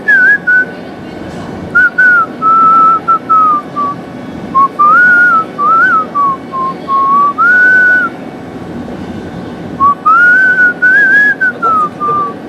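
A man whistles a wavering, improvised tune in short phrases with brief pauses between them, loud and close, over faint indoor background noise.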